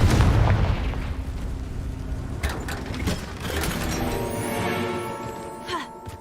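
Confringo blasting spells go off in a magic duel, one deep boom opening the clip, then rumbling blasts and mechanical clanks that keep the whole stretch loud and dense.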